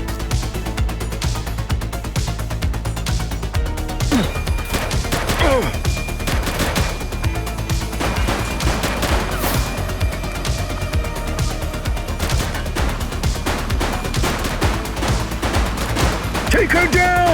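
Sustained gunfire crackles through a police shootout in the game The Precinct, with rapid shots and bursts over a steady backdrop of game sound and music, loud and continuous.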